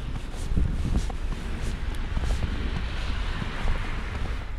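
Wind rushes steadily during a night snowfall in Lynbrook, New York, as someone walks straight into it, making a loud, continuous blustery roar with gusty buffeting against the microphone and no speech.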